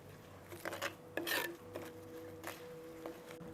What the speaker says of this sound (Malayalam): നമുക്കൊന്ന് ഇളക്കി കൊടുക്കാം എല്ലാം കൂടെ